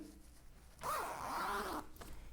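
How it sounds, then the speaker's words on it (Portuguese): A single zipper on sewn fabric pulled closed in one smooth, close rasping stroke, lasting about a second against a quiet background. "Vou fechar o zíper."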